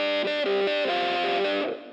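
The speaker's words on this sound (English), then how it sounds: "a big reverb on it" Electric guitar chords with a doubler and a big, spacious reverb; sustained, distorted and loud, ringing alone before trailing off near the end.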